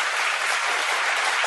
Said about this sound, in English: I think we have an applause button somewhere on here